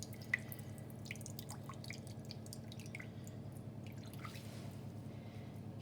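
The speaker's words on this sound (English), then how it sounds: "we just squeeze out all the courgette, get all the liquid out." Liquid drips from squeezed grated courgette during muffin prep: faint, scattered small drips and patters, irregular over a steady low background hum, with no voices.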